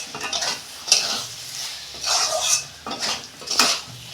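Vegetable chorchori, a mixed winter-vegetable dish, being stirred and scraped out of a pan: rhythmic metal scraping and clinks in several bursts over a soft sizzle, close and fairly loud, with no talking.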